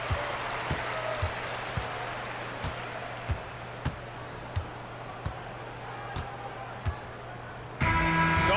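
A home crowd applauds a basketball victory in an arena, a steady wash of clapping and cheering with sharp ball bounces thudding at regular intervals underneath, swelling louder at the very end.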